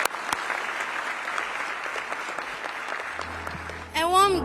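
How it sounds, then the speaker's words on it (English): An audience at a 2025 senior high school renewable energy competition applauds steadily in a dense, continuous clatter of clapping, ending as a louder sound cuts in near the close. "A round of applause."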